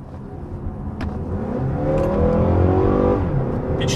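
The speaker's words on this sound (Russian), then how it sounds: "Впечатляет и звук двигателя, на самом деле." A car engine accelerating hard with the automatic gearbox in sport mode, revs climbing in a rising whine with a clear gear change partway through, loud and close from inside the cabin.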